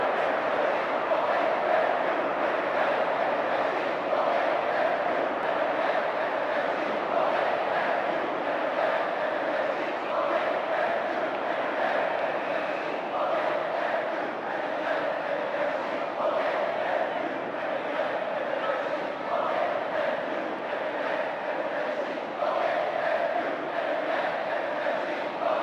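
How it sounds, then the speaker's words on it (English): Stadium crowd in Pro Evolution Soccer 2010 on PS3 voicing frustration in a Champions League match, a steady loud wall of massed jeers and murmuring that holds throughout without letting up. "The crowd expressing frustration in no uncertain terms."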